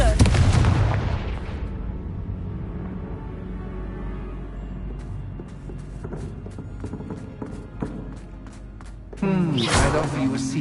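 A Confringo blast spell goes off in Hogwarts Legacy, a loud booming explosion rolling out at the start, followed by scattered pops and crackles and another burst near the end, with a voice speaking over it.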